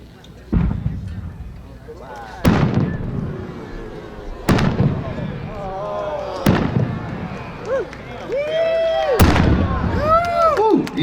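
A 6-inch Maltese multi-break firework shell with blue and gold stars and green centers bursts at an outdoor display, several deep booming reports spaced seconds apart with crackling tails and echoes, while voices talk nearby.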